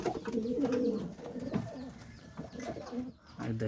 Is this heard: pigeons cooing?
yes